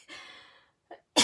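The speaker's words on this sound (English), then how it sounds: "Oh, I'm about to sneeze." A single sudden sneeze: a drawn-out inhale lasting about half a second, a brief catch, then a sharp, loud burst close to the microphone.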